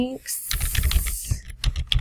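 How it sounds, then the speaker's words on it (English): Rapid, close keystrokes on a computer keyboard during a graphic design session, a quick burst of clicky typing that lasts about two seconds. "let's go over here and type in Halloween"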